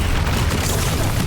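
A Confringo spell blast from the Hogwarts Legacy video game: a dense, rumbling explosive burst with crackling noise, loud and sustained across the whole moment.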